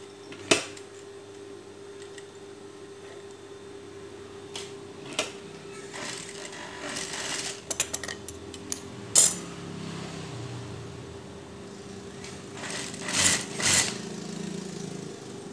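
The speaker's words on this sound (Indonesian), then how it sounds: "Ini langsung dijahit dengan bagian roknya." Home sewing machine stitching the skirt section onto a simple girl's dress, a steady mechanical whir that starts and stops in short bursts over a quiet room hum, with occasional clicks and handling knocks.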